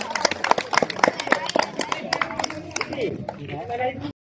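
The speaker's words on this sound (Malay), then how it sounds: "Okey, bagi tepukan." A community crowd claps for a fire brigade fire-extinguishing safety demonstration in a residential neighbourhood. Dense, uneven clapping fills the first seconds and then thins out, with people talking over it throughout.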